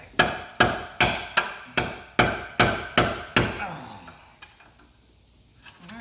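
Nine sharp hammer blows land on wood at a steady, fairly quick pace, each one ringing briefly, then a few faint knocks follow in a quiet room.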